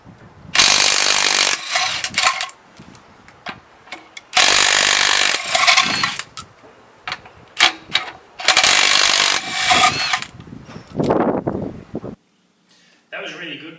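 Milwaukee M18 Fuel compact 1/2-inch impact wrench removing and refitting wheel nuts on a Toyota Land Cruiser Prado: loud repeated hammering bursts of a second or so, separated by pauses, with talk between them.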